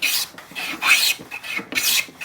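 Hand plane shaving along a timber edge: three long rasping strokes, each a bright, breathy swish with a short pause between, close and fairly loud, no voices.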